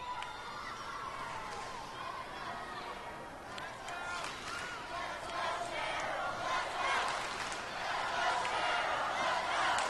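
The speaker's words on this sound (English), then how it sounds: "Listen to the crowd behind her." A crowd cheers and shouts at a karate match at the USA Karate Nationals, a steady roar of voices under a commentator's talk.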